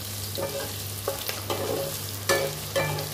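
Ginger, garlic and green chili fry in a pan as a spatula stirs them. Steady sizzling runs under several distinct scrapes and clinks of the utensil against the pan, with a low hum in the background.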